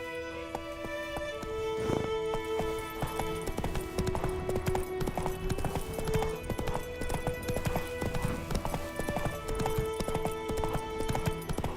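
A horse gallops in The Witcher 3, its hooves clopping in a quick, steady rhythm at close range over game music and ambience.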